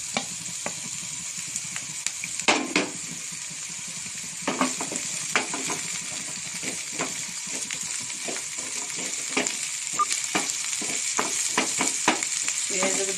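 Sliced onions sizzle in a frying pan while being cooked for a sandwich, a steady hiss under intermittent scraping stirs of a spatula.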